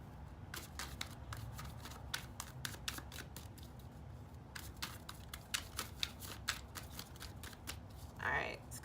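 A tarot card deck being shuffled and cut by hand, rapid crisp riffling and flicking of cards in quick irregular bursts, close and fairly quiet, with a brief rustle near the end.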